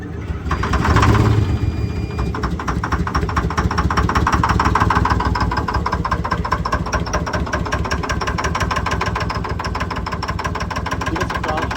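Cabover truck engine cranking and catching, then running at a rough, steady idle with rhythmic low chugging throughout, loud and close.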